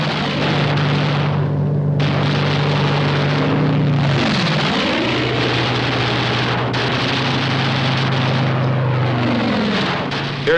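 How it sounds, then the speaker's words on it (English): Fighter aircraft swooping down in a 1945 wartime newsreel, loud propeller engine drone with pitch sweeping as planes dive and pass overhead, several overlapping passes, close and powerful throughout. "Fighter aircraft swooped down to destroy the enemy."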